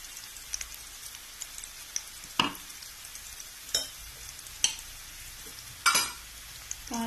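Sautéed onions with a pinch of turmeric powder frying faintly in a pan for a Kerala tapioca stir-fry, a soft low sizzle broken by a few sharp spoon scrapes and clicks as the mixture is stirred.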